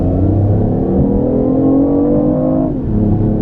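BMW i8 2015 hybrid sports car accelerating from a standstill in sport mode, a steady loud engine drone with rising harmonic tones holding high revs, dipping briefly near the end before resuming.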